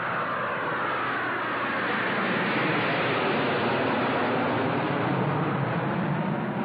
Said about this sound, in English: What are Russian jets doing here?